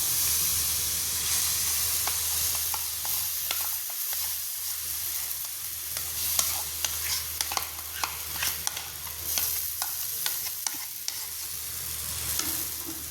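A spoon stirs ground mango pulp in a hot pan, giving a steady sizzle and hiss broken by frequent sharp scraping clicks that grow busier in the second half; no voices are heard.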